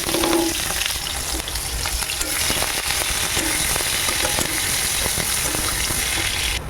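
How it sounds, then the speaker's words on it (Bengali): Cumin, green chilli and chopped onion frying in hot oil for dal, a loud continuous crackling sizzle close by, with occasional stirring scrapes and no voices. "এখানে আমি জিরে দিচ্ছি। জিরে দেওয়ার পর এখানে আমি কাঁচা লঙ্কা পেঁয়াজ কেটে দিচ্ছি"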